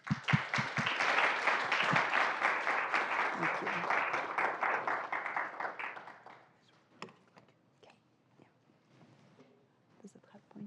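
Audience applause greets a guest speaker at a campaign event on Uyghur rights, a dense burst of clapping lasting about six seconds before thinning into scattered claps and small room noises.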